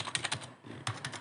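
Quick run of keystrokes on a computer keyboard, close and clear, with a brief pause midway before a few more taps.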